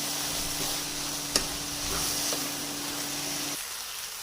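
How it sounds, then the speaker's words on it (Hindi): Chicken roll filling with vinegar and red chili sauce roasts in a pan, giving a steady soft sizzle and hiss with a single sharp tap partway through before the sound drops away. "1 मिनट तक रोस्ट करेंगे, इसे भूनेंगे अच्छे से"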